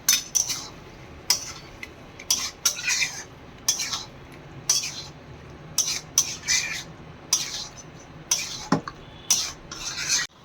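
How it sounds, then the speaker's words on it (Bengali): Chicken being mixed into a marinade in a pan, a series of repeated scraping and clinking strokes of a utensil against the pan, fairly close, with short pauses between strokes. "এবার আমি এর মধ্যে চিকেনটা ঢেলে দিচ্ছি, নিয়ে একটু ম্যারিনেট করে নিচ্ছি।"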